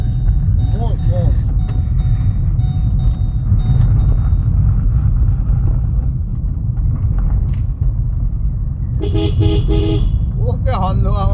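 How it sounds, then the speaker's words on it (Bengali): Car horn toots in short bursts near the end over a loud, steady engine rumble on a road, with someone talking throughout. "ওকে হর্ন দেওয়া মানে বেকার।"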